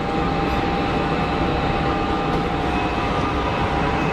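Airbus airliner on final approach at Geneva Airport, a steady distant jet whine and rumble that holds evenly throughout, with a thin tonal hum over broadband engine noise.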